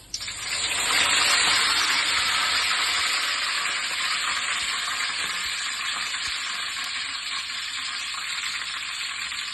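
Curry leaves hit hot frying oil for a bachelor-style fish curry, meen kulambu, with a sudden burst of sizzling that settles into a steady, loud hiss with no talk.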